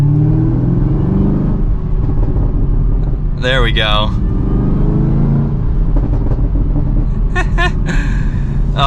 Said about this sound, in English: And you have this exhaust, ready?